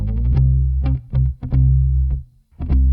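Punchy, distorted bass riff with a thick chorused, doubled tone, played in short rhythmic bursts with brief gaps between notes.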